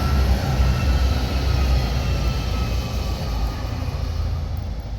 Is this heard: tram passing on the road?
yes